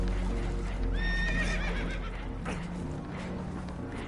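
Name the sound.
spooked horses neighing in Red Dead Redemption 2 video game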